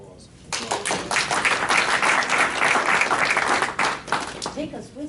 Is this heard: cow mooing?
no